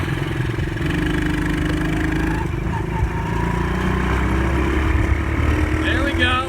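Small 125cc Chinese ATV engine just started and running steadily, a loud, close, buzzy drone holding an even rhythm without pauses.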